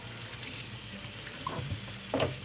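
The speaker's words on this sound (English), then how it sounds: "rinse off some apples" Running tap water splashes over apples in a sink, a steady close rush of water with a few brief knocks and clatters, and no talk.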